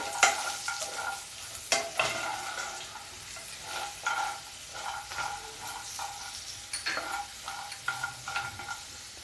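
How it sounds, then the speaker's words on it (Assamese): Bori and potatoes stirred into a sizzling pan for a vegetarian curry, a spoon scraping in uneven strokes over a steady close frying hiss. "আৰু আলুখিনিও দি দিম এখিনি মিক্স কৰি লম ভালকে"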